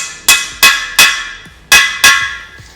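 Five sharp metallic hammer strikes seat cup-shaped freeze plugs into the core holes of a Cadillac 390 V8 engine block, each ringing blow followed by a short decay, with no talking.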